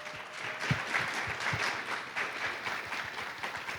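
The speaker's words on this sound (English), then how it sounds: "me a round of applause for our panelists today." Steady audience applause for startup ecosystem panelists at a conference, dense even clapping from a large crowd holding level for several seconds with no voices over it.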